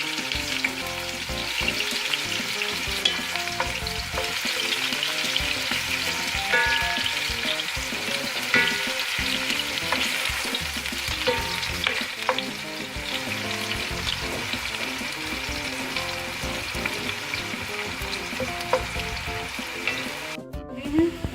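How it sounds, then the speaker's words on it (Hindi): Onions dropped into hot oil sizzle and fry steadily for biryani, a continuous crackling hiss with occasional stirring scrapes, moderately close and uninterrupted by talk. "ऑयल गरम हो गया है, इसमें प्याज डालें"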